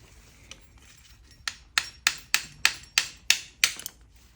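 A big hammer strikes car parts in a garage, about eight sharp metallic blows in a steady rhythm, close and loud, each ringing briefly before the next.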